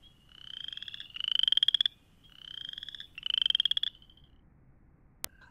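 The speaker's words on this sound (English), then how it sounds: "one of the first frogs that we hear are chorus frogs" Chorus frogs call in spring, a loud pair of rising, raspy trills like a finger run along a comb, repeated twice in near succession over a quiet background, followed by a single sharp click.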